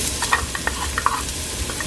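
Onions and garlic sizzle in a hot pan for Puerto Rican pollo en fricasé, a steady close frying hiss broken by small crackles and the scrape of stirring.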